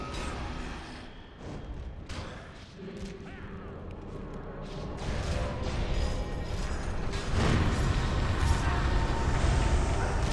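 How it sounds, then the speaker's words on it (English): A clothes dryer that is not drying properly, grinding and creaking steadily throughout at a continuous, fairly loud level that builds slightly toward the end. "So, Cracktoon, going with the dryer, it's making awful noise."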